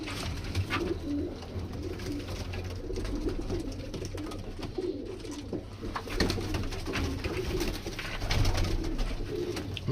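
A lot of about a dozen standing double pigeons offered for sale coo steadily in soft, repeated low calls, fairly quiet and close, with no talking.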